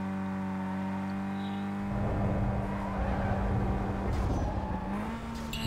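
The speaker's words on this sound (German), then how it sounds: "Wie der Wagen einfach nur direkt anfängt zu driften, wenn er keine Lust hat." A car drifting in Need for Speed Most Wanted, engine droning steadily then tires breaking into a loud, sustained squeal and skid that carries through to the end, no talking.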